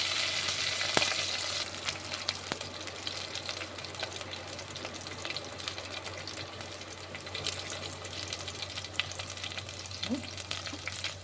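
Hot oil sizzles steadily after asafoetida is dropped in for a simple dal tempering, a continuous bright frying hiss with a sharp crackle near the start and faint stirring clinks throughout.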